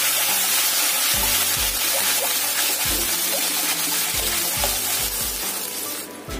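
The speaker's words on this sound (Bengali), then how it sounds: "জল দিয়ে দিচ্ছি।" Water poured into a hot pan for a Bengali rohu fish curry with potatoes sets off a loud, steady hissing sizzle, broken by low knocks and bubbling.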